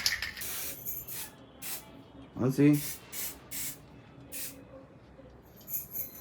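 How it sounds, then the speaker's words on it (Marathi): Short hissing bursts from a spray paint can as it covers leftover spots on festival decorations, a series of sharp sprays repeated every second or so, with a brief voice cutting in partway through. "उरलेल्या जागेवर स्प्रे पेंटने कव्हर करतोय"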